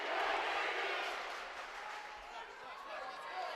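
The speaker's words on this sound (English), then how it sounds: "Crowd chanting something." Crowd noise at a Darien versus Greenwich varsity boys high school hockey game, a broad wash of voices that swells at the start and lingers steadily as a chant carries through the rink.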